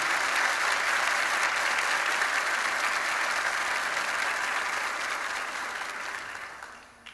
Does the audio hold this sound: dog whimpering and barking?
no